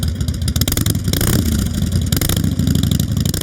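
Several motorcycle engines revving hard together at a bikers' gathering, loud and close, with rough throttle bursts and a sustained growl filling the whole stretch.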